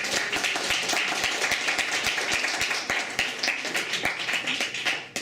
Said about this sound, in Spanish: Entonces vamos a darle un aplauso